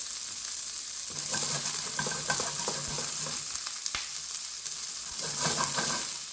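Carrots and mixed vegetables sizzle and fry steadily in a pan, close by, with a continuous crackling hiss and occasional stirring clatter.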